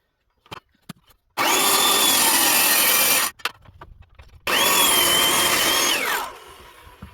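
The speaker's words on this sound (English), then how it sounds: "I'm going to run the circular saw on top of that shim to give me the taper that I" A circular saw cuts a taper into a timber tenon, riding on a shim: two loud, sustained whining cuts of about two seconds each, separated by a pause with light knocks, the second cut spinning down at the end.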